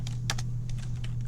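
Fingers tap out a short burst of keystrokes on a computer keyboard while editing a hosts file, a few quick clicks close by over a steady low electrical hum.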